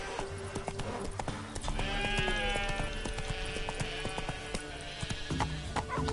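Hoofbeats of Roach, a horse in The Witcher 3, galloping at a steady clip-clop rhythm in an outdoor game scene, with ambient tones and effects layered over the hooves.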